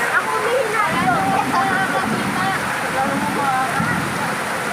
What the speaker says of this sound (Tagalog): Malamig ba ang ulan?